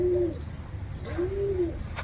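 Koel calling in the Thar desert: two drawn-out, mellow tonal calls close by and clear, with faint higher chirps from other birds.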